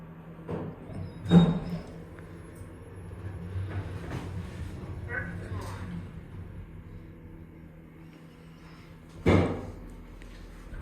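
Door panels of a KONE machine-room-less traction elevator at a Kissimmee, Florida resort, sliding slowly, with a solid thud near the start and another near the end over a low steady hum.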